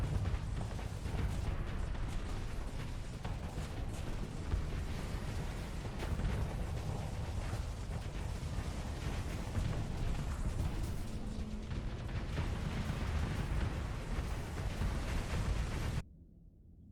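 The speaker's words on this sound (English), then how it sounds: "Boom boom, pretty explosions." Rumbling video game explosions and heavy booms roll continuously at moderate loudness, cutting off abruptly near the end.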